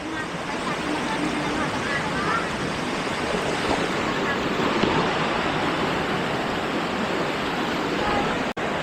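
Swollen river in flood after nonstop rain, the Real river near Batangas, rushing as a loud, steady broadband roar that fills the whole stretch without a break, close to the microphone.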